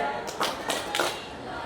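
Three sharp hand claps in a classroom ice-breaker, evenly spaced about a third of a second apart over a steady murmur of room noise.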